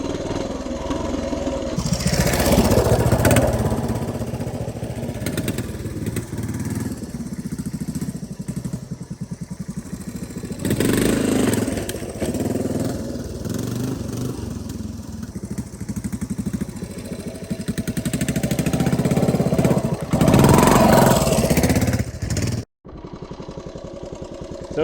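A 1976 Honda TL250 vintage trials motorcycle climbs a tricky hill outdoors, its engine revving and surging unevenly with throttle blips and bursts, loud and close throughout before cutting off near the end.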